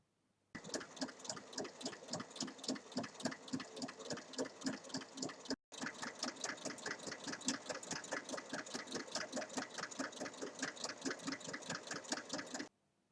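A sewing machine stitches a bag strap in fast, even, rhythmic bursts of needle clatter, pausing briefly once before running on steadily, close and clear with no talking.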